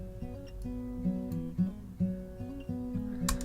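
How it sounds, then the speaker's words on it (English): Dry, unprocessed acoustic guitar riff recorded as one take panned hard left and one hard right, plucking a repeating melodic figure over sustained bass notes, close and moderately quiet, solo with no talking. "So this is what that main guitar riff sounds like dry."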